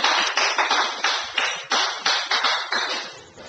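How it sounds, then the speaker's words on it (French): A church congregation applauds together in bursts of loud, rhythmic clapping, surging and easing several times with brief dips between waves. "Nous acclamons très fort pour la gloire du Seigneur"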